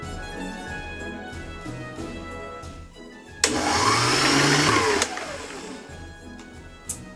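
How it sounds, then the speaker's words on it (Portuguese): An electric mixer whips chilled whipped cream in one loud, steady whirring burst lasting about a second and a half, close up, preceded and followed by softer kitchen clatter. "a gente vai bater conforme instruções da embalagem. Bem geladinho, né? Bem geladinho, não congelado. Então, bora para a batedeira."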